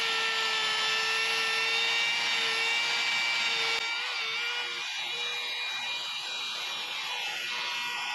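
A router cuts an ash guitar body along a screwed-down template, giving a loud, close, high-pitched whine. The cutting is steady at first and then turns rougher and choppier as the bit bites into the wood.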